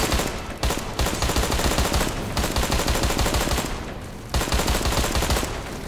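Rapid bursts of automatic gunfire from a weapon in the first-person shooter Deadfall Adventures, loud and sustained, with brief pauses between volleys.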